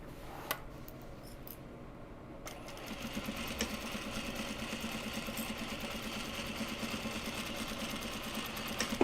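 A sewing machine top stitching Japanese fabric bags, starting after a few clicks and then running in a steady, fast mechanical whir with rapid needle chatter, close and fairly quiet.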